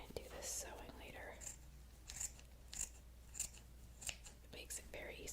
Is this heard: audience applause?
no